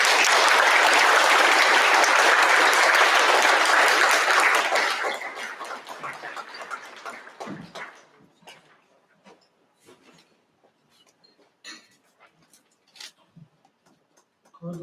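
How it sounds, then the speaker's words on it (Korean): Loud, dense applause from an audience welcoming the secretary-general on stage at the 2023 Korea-US peace and unification forum, sustained for about five seconds before thinning into scattered claps and faint room noise. "석동현 사무처장님을 뜨거운 박수로 모시겠습니다."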